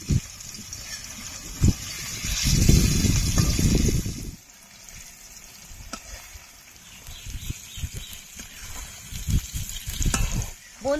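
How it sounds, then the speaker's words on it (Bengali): Paneer cubes fry in hot mustard oil with a loud, close crackling sizzle, swelling strongly at first, then settling into a quieter bubbling hiss broken by spatula scrapes and turns. "এবার পনিরগুলো ভেজে নেব।"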